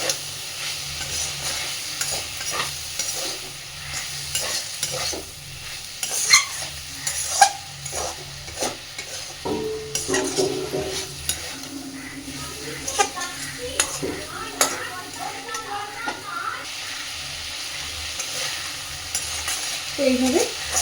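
Potato, eggplant and small shrimp curry fries on a gas flame set to medium while a spoon stirs it, with an irregular scraping and clatter of the utensil against the pan over a low sizzle and a voice talking intermittently.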